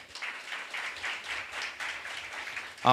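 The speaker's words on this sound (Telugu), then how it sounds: "నమ్మిన వారు చప్పట్లు కొట్టండి" A church congregation claps together during a sermon, a steady burst of applause with no voices over it, swelling slightly at the end.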